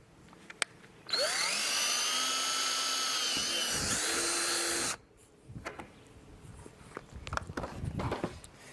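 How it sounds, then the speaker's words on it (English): A power drill whines at high pitch for about four seconds, drilling a pilot hole in an IBC tote, its tone dropping slightly under load, followed by scraping and handling noises. "drilling a pilot hole."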